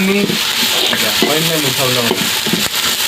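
Ginger garlic paste lands among browned onions in a hot pan and fries with a steady, loud sizzle and stirring scrapes, while a person talks over it throughout.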